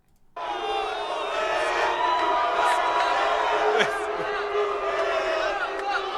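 A crowd at a UFC press conference roars and jeers in a sustained, loud wall of noise, with a few whoops and shouts standing out above it.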